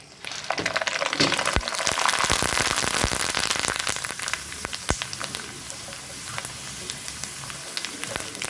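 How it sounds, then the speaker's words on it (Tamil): Loud, dense crackling and sizzling of macaroni chips frying in hot oil, with sharp pops throughout, easing slightly toward the end. "இதை ஆயிலில் நான் ஃப்ரை பண்ணி காமிக்கிறேன்"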